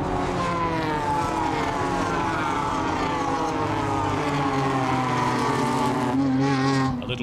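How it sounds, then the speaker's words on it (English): Renault Megane Trophy race cars powering uphill as a pack at Spa-Francorchamps, their engines merging into a loud, continuous near roar with rising pitch that drops away abruptly near the end. "Spectacular sight as the pack powers its way up the hill."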